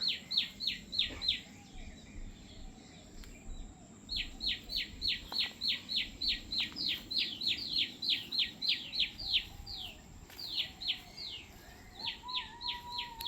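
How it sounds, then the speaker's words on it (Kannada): Repeated bursts of bird chirping in quick series, fairly close, with short pauses between bursts over a low background hum, at sunrise. "ಬರ್ಡ್ ಸೌಂಡ್ ಕೇಳ್ತಿದೆ ಅಲ್ಲ."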